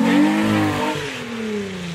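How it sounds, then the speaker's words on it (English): A car engine revs hard at an outdoor car show and swap meet, a loud rising roar with strong harmonics that settles into a steady high idle-rev, heard up close with no talking. "Oh yeah, rev that, rev it, rev it! I wanna hear this."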